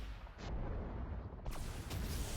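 Submachine gun fire from the Neutron Star mech in the Super Mecha Champions game, a few sharp bursty shots over a dense, rumbling battle background.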